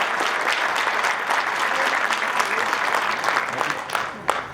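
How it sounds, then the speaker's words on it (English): Audience applause for graduates at a graduation ceremony: a full, sustained burst of clapping from many hands, steady and fairly loud, tapering slightly with a last sharp clap at the end. "A nice round of applause for all the graduates."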